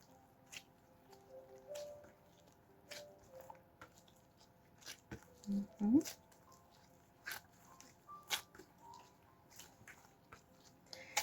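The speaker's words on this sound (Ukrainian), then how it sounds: "і зараз ми це тісто ще раз вимішуємо" Italian pizza dough being kneaded by hand, with soft, faint squishing and sticky slapping. A few sharper squelches come near the middle, over a quiet background with scattered small clicks.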